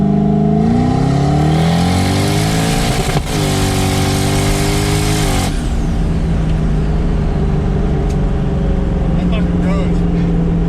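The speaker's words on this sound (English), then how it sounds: "I smacked the motor a little hard and it popped." A twin-turbo, 700 hp, 8-rotor Mazda RX-7 accelerates hard up close, its loud engine note climbing through a shift and then cutting off as the revs fall away.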